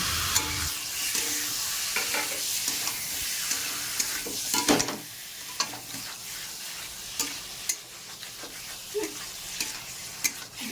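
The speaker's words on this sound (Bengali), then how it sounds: "মশলা কষানো হয়ে গেছে এবার কেটে রাখা লোটে মাছগুলো দিয়ে দেবো" Cut Bombay duck (lotte) fish tipped into spiced masala in a hot pan, a close, steady sizzle with scattered spatula clinks and stirring scrapes, louder at first and then easing, no voices.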